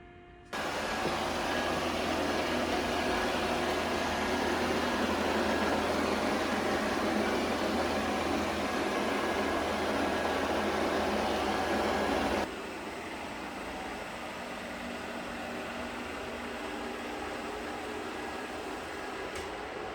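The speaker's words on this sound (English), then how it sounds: "here you can listen and hear what it sounds like when it's cleaning the mop pad" A Shark PowerDetect NeverTouch Pro 2-in-1 robot vacuum cleaning its mop pad gives a loud, steady mechanical whir with fan-like noise for several seconds, then abruptly drops to a quieter, softer hum that continues.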